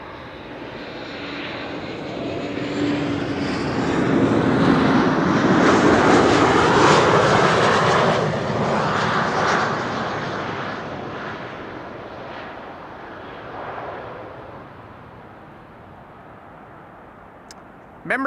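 A passenger airplane built in 2008 roars past at Amsterdam Schiphol Airport, a loud broadband jet rumble that swells to a peak mid-clip and then slowly fades into the distance.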